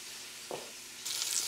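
Pork chops sizzle in a frying pan, a soft steady hiss with a short burst of louder crackle midway and a brighter, denser spatter toward the end.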